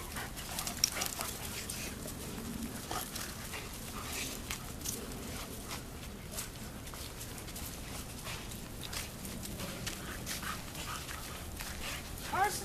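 Several dogs off leash play together, biting, yipping, whimpering and panting in a steady, busy tangle of sounds heard at a moderate distance over outdoor background noise.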